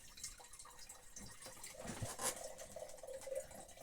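Water poured from a canister into an aluminium coffee pot in a cabin without electricity, a soft, steady trickle and splash heard close but faint.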